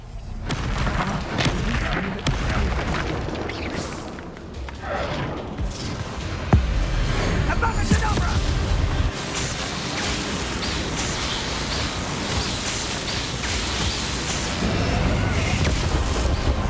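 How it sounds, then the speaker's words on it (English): Spells crackle and boom in a Hogwarts Legacy duel as Expelliarmus is cast repeatedly, with dense bursts, blasts and a sharp impact midway, layered over a continuous noisy battle roar. "Casting Expelliarmus everywhere."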